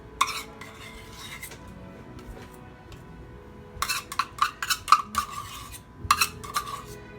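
A utensil scrapes creamy peanut butter out of a measuring cup in a home kitchen, with quiet early scrapes followed by a denser run of sharp clinks and knocks against the cup.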